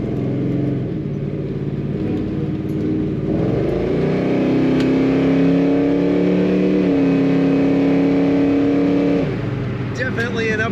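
A 1970 Chevrolet Chevelle Malibu convertible engine with automatic transmission and upgraded torque converter revs and accelerates with a steady rising drone, close and loud throughout.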